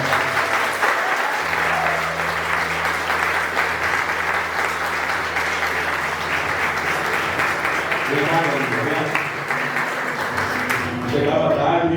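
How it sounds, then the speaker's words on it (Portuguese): A graduation ceremony audience breaks into sustained applause, many hands clapping steadily for several seconds, with voices talking and a low steady tone underneath and a brief lull near the end. "dê uma salva de palmas para minha mãe"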